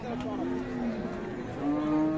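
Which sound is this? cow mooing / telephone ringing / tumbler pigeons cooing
cow mooing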